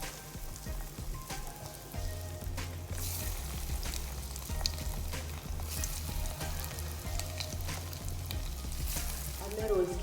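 Potato bread rolls coated in egg and breadcrumbs frying in oil, a soft steady sizzle with gentle crackling and faint low hum, fairly quiet and unbroken, ending with a brief clatter.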